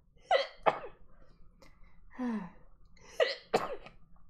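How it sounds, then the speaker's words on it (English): Several sharp sneezes from a person suffering allergies, loud and close, two in quick succession near the start, a quieter sniff or breath in the middle, then two more sneezes near the end. "I feel like I'm gonna sneeze."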